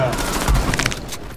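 Gunfire in Rainbow Six Siege: a dense, loud volley of rapid shots at close range, ending in a sharp crack, with a voice talking over it.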